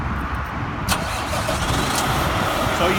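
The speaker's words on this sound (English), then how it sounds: "Now I'm going to go ahead and safely start this truck." A truck engine cranks and catches near the mic, a sharp starter burst followed by a steady rumbling idle that holds loud and even for the rest of the moment.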